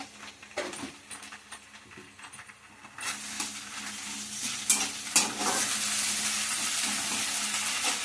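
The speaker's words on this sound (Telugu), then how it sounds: "ఇవన్నీ కూడా కొంచెం ఫ్రై అవ్వనిద్దాం" Curry leaves and a little ginger garlic paste frying in a pan, starting quietly with scattered stirs, then breaking into a loud, steady sizzle for the last five seconds with sharp crackling pops.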